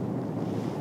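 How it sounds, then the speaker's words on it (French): Wind gusts across a mountain top as a steady, full rumble, buffeting the microphone throughout a short moment, with no voices. "Ça commence à souffler là-haut, il y a du vent."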